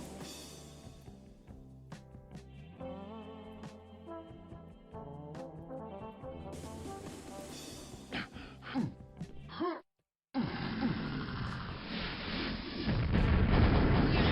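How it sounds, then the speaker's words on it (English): Enemy projectile attacks in Quake land as a string of booming blasts and bursts over a dense, ringing game soundtrack, followed by a brief silence and then a loud, steady roar. "they just shoot projectiles at you"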